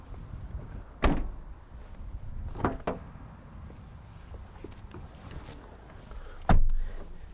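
A 2015 Nissan Note's rear door clicks and thuds open to about 90 degrees, followed by a few faint handling knocks and a final solid door sound, all close and otherwise quiet.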